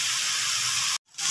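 Garlic and ginger paste frying in hot oil for a spicy red kidney bean curry gives a steady, dense sizzling hiss that cuts off abruptly near the end, then returns faintly.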